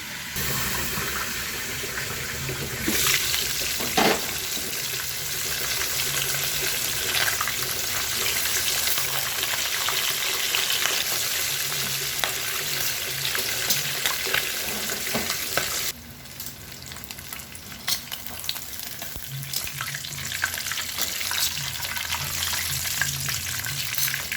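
Chicken fries in a pan of oil, Max's-style fried chicken, giving a loud, steady, hissing sizzle with occasional crackles and stirring knocks. The sizzle drops in level partway through, then carries on with no talking.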